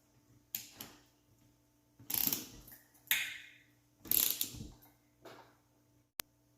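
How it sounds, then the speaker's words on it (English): A torque wrench ratchets engine bolts tight during an engine build, giving several short clicking bursts of separate pulls with pauses between and a sharp final click, close and alone. "And we're going to torque these bolts to 22 to 25 foot-pounds."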